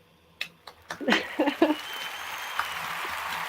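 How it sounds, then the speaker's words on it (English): A few sharp, separate hand claps from one or two people, close and fairly loud, trailing off into a quiet room with some vocal sounds mixed in. "I'm going to clap again."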